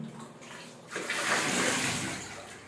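Water splashing and pouring as children wash their hands and feet, a steady rushing wash that swells after a quiet start and carries on alone without talk.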